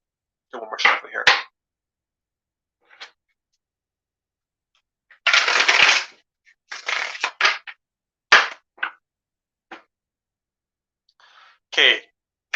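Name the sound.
shuffling tarot cards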